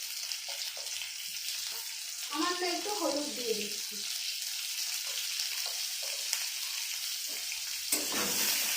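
Boiled potatoes with salt frying in a pan, a soft steady sizzle with occasional stirring scrapes and a brief clatter, while someone speaks over the cooking.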